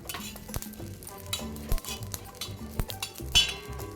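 Coriander and cumin seeds roasting in a pan with a little oil, heard as a soft sizzle with repeated scraping stirs and metallic clinks of the spoon against the pan, close and steady.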